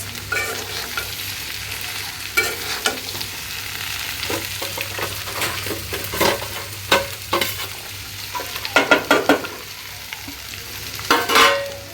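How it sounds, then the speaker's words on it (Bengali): Okra frying with onions in a pan, giving a continuous close sizzle broken by bursts of stirring and scraping that cluster densely near the end. "আমি এখন এই যে ঢেঁড়স ঢেলে দিব"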